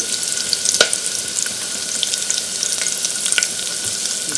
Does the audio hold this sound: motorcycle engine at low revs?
no